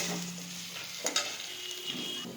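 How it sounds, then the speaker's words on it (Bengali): Chopped tomato with ginger-garlic paste sizzles and fries in a kadai pan, with a soft continuous hiss, a few sharp stirring clinks of a utensil against metal, close by and without talk. "এটাও যতক্ষণ না কাঁচা গন্ধ যাবে ততক্ষণ কষাতে থাকবো।"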